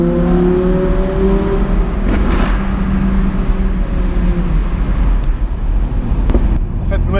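Audi R8 V10 Spyder, 540 hp, revving loudly inside a road tunnel in winter, a steady deep engine drone with echoing reverberation and a slight rise in pitch, with talk over it.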